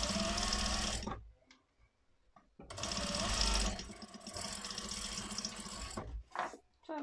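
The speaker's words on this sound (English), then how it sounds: "so we are sewing down the other side on top and making sure that our fabric is nice and flat" Sewing machine stitching corset fabric, running in two loud whirring bursts separated by pauses, with small handling noises in between and a short final burst.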